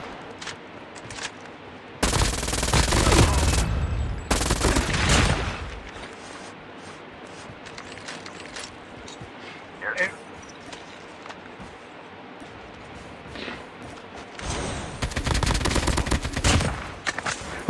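An AK-47 fires in Call of Duty Mobile in two long, loud bursts of rapid automatic fire, separated by quieter stretches with faint distant shots and small noises.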